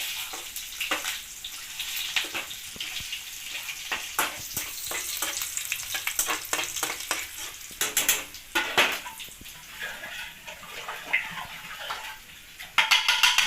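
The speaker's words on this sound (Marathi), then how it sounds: "मी इथं फक्त लसूण जिरे ह्याचीच फोडणी देत आहे" Oil sizzles and crackles steadily as garlic and cumin tempering fries in a pan, with intermittent scraping and clinks of stirring, no talking.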